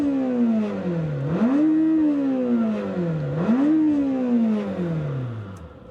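A Lamborghini Temerario in Sport mode, warmed up, revs high toward 10,000 RPM with a shrill sport-bike-like wail, climbing twice in long sweeping rises and falls before easing off, loud and close.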